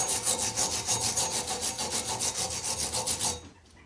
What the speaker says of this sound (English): Just going to give it a go with the hand wire brush as well in the vise